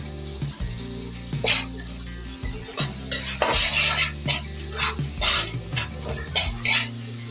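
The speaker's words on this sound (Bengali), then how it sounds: "এবার এটা একটু ভাজতে থাকবো গ্যাসের ফ্লেমটা আমি লো করে দিচ্ছি" Onions fry in a pan over a low gas flame, a continuous soft sizzle broken by frequent clinking and scraping stirs of a utensil against the pan, close by and without talk.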